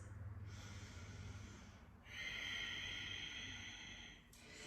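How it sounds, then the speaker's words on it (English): Audible yoga breathing during a morning stretch routine, a slow inhale then a longer hissing, slightly snoring exhale, close and steady with no talk. "Notice I'm breathing with a little bit of an audible quality."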